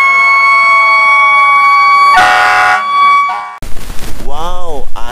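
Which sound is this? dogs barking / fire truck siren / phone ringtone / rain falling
fire truck siren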